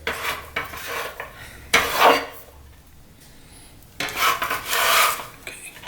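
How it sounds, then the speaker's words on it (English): A metal bench scraper scrapes diced onion across a cutting board in a kitchen, giving three separate bursts of rasping strokes, each about a second long, with quiet gaps between them and no talking. "Use your bench scraper."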